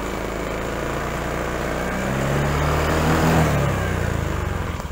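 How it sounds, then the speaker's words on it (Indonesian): A 2013 Honda Spacy Helm-In PGM-Fi scooter, fitted with a Beat engine, is revved up close, its whine climbing steadily to a peak and then easing back down, with no talk. "Mau kita geber ya."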